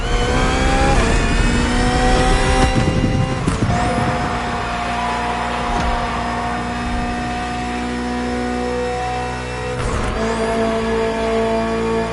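A 2023 BMW M Hybrid V8 endurance race car, built for races like the 24 Hours of Le Mans, revs hard in a video game, its loud, harmonic engine note rising and falling through gear changes with no pauses.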